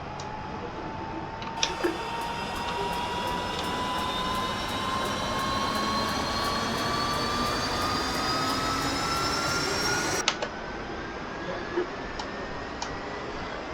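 A UH-1H Huey helicopter turbine in a video game spools up during engine start, with rising whines that climb steadily in pitch over a constant rumble and faint ticking. The sound holds loud and near, with no talk.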